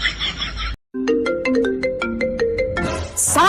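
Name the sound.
mobile phone ringtone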